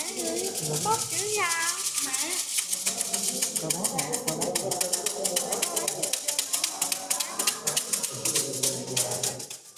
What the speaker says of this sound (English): Amidst the quiet, the clicking of fortune sticks sounds like the heartbeat of hope.